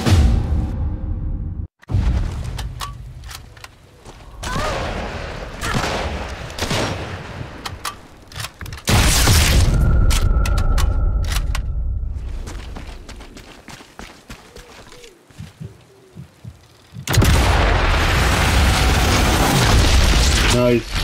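Grenade explosions and gunfire in the video game Sniper Elite 5: loud booms and heavy bursts sit between calmer stretches, with a big blast near the middle and another near the end, while voices talk over parts of it.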